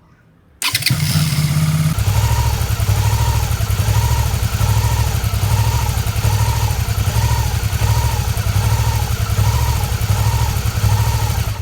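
A motorcycle engine starts and settles into a loud, steady idle with an uneven, pulsing rhythm as a fuel additive works through it before an oil change, running close and alone with no talk.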